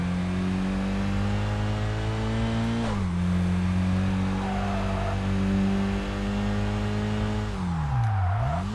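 A race car engine in the video game Kaido Racer 2 drones steadily under load, dipping as it shifts gears and then dropping sharply with a brief revving swoop near the end.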